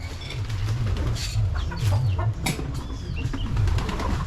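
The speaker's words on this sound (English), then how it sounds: "The chickens are going crazy. He's feeding the chickens here." Chickens cluck and squawk excitedly as they are fed in a rural yard, loud overlapping calls with bursts of wing flapping and scuffling close by, no talk.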